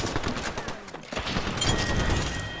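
Dense video-game gunfire crackles in rapid bursts throughout, loud and close, with a short lull near the start before the volleys resume and continue steadily.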